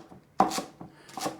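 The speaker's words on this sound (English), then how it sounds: "we're just going to cut it roughly into about 1-inch pieces" A knife chops spring onion and sawtooth coriander roughly on a board for Tom Yum soup, giving a few close, crisp cuts with short pauses between them, no talk.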